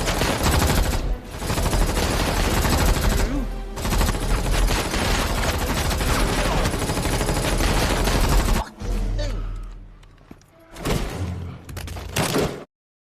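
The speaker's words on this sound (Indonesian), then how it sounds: "langsung memberondong mereka dengan tembakan secara membabi" A gunman in an action film sprays indiscriminate automatic gunfire in a loud, unbroken fusillade. It then breaks into shorter separate bursts with brief gaps before cutting off abruptly.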